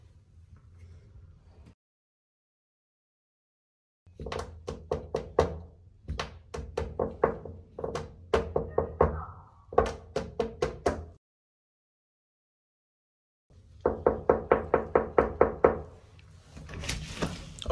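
Knocking on a door comes in rapid patterned bursts, several quick raps per group with short pauses between, fairly close and crisp. A final louder flurry follows a stretch of silence, with a low background rumble at the start.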